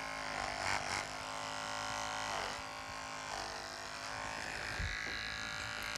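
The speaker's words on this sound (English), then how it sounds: "I like to use a clipper on a 15 or a 30 and just get the excess hair out of the pads" An electric pet clipper fitted with a #15 or #30 blade trims excess hair from an American Cocker Spaniel's paw pads at a grooming demonstration. It gives a steady, close buzz that runs throughout without pause.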